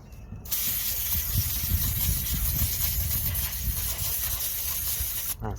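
A cleaner sprays onto the oil filter mounting surface of a Kawasaki J125 motorcycle in one continuous close hiss lasting several seconds. The hiss is bracketed by brief quiet at the start and end.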